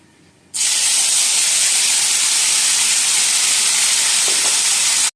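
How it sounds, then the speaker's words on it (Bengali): Paste of ginger, garlic, onion and green chilli dropped into hot spices for a prawn malai curry, bursting into a loud, steady, close sizzle that holds for several seconds, then cuts off. "এখন এর মধ্যে আমি দিয়ে দেবো যে আদা, রসুন, পেঁয়াজ আর কাঁচা লঙ্কার পেস্টটা বানিয়েছিলাম সেটা"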